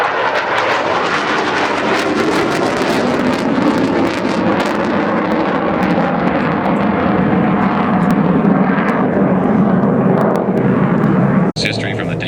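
A McDonnell Douglas F-4 Phantom jet makes a slow pass at the 2012 Duluth Airshow with gear, flaps and hook down, its engine roar loud and steady throughout, with wind buffeting the microphone and a brief cut near the end.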